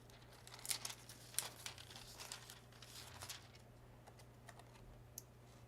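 Striped foil peeled slowly off a handmade winter greeting card, giving soft close crinkling and crackling with a few sharper ticks, quiet and alone with no voices.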